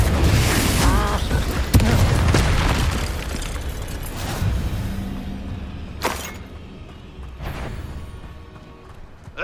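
A Confringo blasting spell goes off in Hogwarts Legacy: a loud, broad boom at the start that rolls into a rumbling, crackling tail, followed by a few sharper bursts later in the fight.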